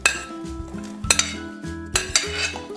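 Chopped carrot and green beans tumble into a metal pot of broth for chicken albondigas soup, with three sharp clattering drops of pieces and utensil knocking against the pot between quieter ringing metallic tones.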